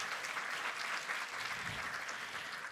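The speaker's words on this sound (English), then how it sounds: "And yes, that's applause-worthy." Audience applause fills a lecture hall after an announcement at a museum lecture series, a steady, dense wash of many hands clapping at an even level throughout, with no talk over it.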